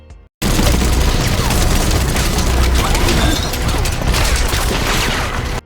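Automatic machine gun fire in a scene from the Fallout TV series: a dense, loud, sustained barrage of rapid shots with booming impacts, starting abruptly after a brief quiet lead-in and continuing to the end.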